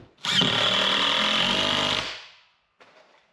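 A power drill drives a screw into plywood in a woodshop: one loud, close, sustained whirring burst of about two seconds that winds down, followed by a brief faint rattle, with no speech.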